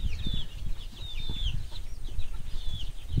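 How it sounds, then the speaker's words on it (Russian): Laying hens clucking and chirping in a backyard coop, a steady chorus of short squawky calls and chatter at close range with some low rumble, no talk. "И тут еще несушки наши."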